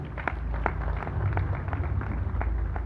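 Audience in a comedy show hall applauding, a steady patter of many hands clapping with irregular sharp claps standing out, moderately loud with a low rumble of room noise beneath.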